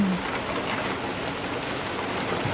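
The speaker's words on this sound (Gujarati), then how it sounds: "જોઈ શકો છો તમે જુનાગઢમાં પહેલો વરસાદ આવી રહ્યો છે" First monsoon rain falls in Junagadh, a steady, dense hiss of drops on surfaces that holds at an even level throughout, with no voices.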